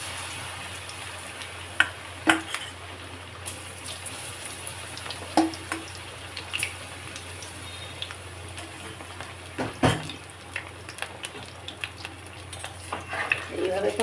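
Spiced eggplant slices deep-frying in hot oil, a steady low sizzle with scattered pops and a few clinks of a utensil against the pan, close and fairly quiet, with no talking.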